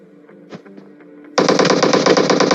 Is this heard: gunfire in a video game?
yes